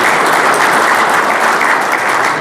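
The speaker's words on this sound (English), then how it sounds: "let's give them a round of applause" Steady, loud applause from a meeting audience welcoming new members, dense clapping sustained throughout with no gaps.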